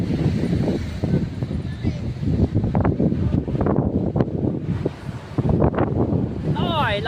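Strong gusty wind at the seashore buffets the microphone in loud low rumbles, with people talking over it and a bird chirping briefly near the end.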